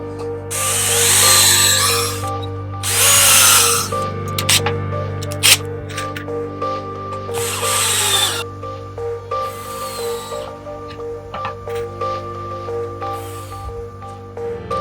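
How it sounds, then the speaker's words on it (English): A power drill drives screws into the wooden bottom of a birdhouse: a few loud whirring bursts that rise and stop, separated by clatter and handling noises, close up and without speech. "I'm going to attach it with one screw on the left-hand side of the box"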